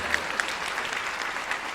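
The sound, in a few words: applause at a commencement ceremony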